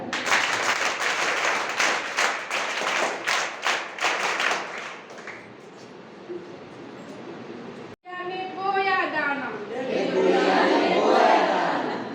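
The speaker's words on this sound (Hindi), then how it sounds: "ताली बजा।" A group of scouts and guides claps in bursts at a parade gathering, the dense clapping fading out partway through before chanting voices take over.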